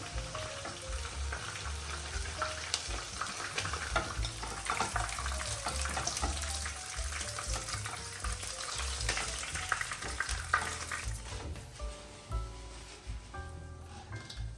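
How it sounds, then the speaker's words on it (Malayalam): Chicken frying in oil sizzles and bubbles steadily at close range, with clinks and scrapes as pieces are scooped out of the pan, and a watery splashing texture underneath. "ചിക്കൻ ഫ്രൈ ആയി, അധികം ആവാനും പാടില്ല, അതുകൊണ്ട് ഞാൻ കോരുക."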